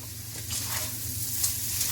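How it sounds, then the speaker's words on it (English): Seasoned chicken with a splash of liquid aminos sizzles and is stirred in a hot pan, a steady close frying hiss with a few brighter spits, no talking. "So we're going to add the chicken now."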